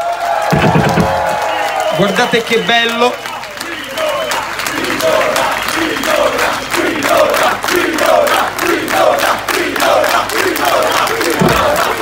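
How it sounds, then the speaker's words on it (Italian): Crowd at a live Nanowar Of Steel metal show at Cinecittà World claps and cheers loudly and steadily, with rhythmic applause pulsing throughout and a voice speaking over it. "Un applauso!"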